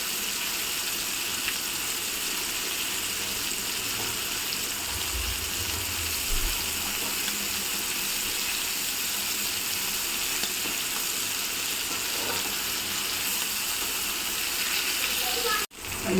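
Prawns fry in a pan with a loud, unbroken sizzle, dense and close throughout, with a few low thumps from stirring and an abrupt cut near the end.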